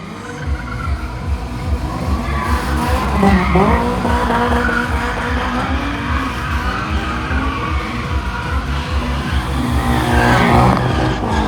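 Drift car tires skid and squeal under a howling throttle at a King of the Cone event, the engine revving hard and the screech sustained and loud, rising and falling.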